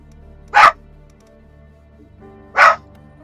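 A dog gives two single, sharp barks about two seconds apart, loud and close, with a low hum in between.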